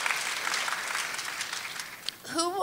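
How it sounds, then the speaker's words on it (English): An audience at a costume design talk claps for itself, a steady, fairly loud wash of applause that fills the room before a voice starts speaking near the end. "Applaud for yourself"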